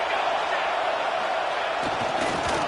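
Roaring stadium crowd at a football game, a loud continuous wall of cheering and noise that holds steady throughout, with faint thuds near the end.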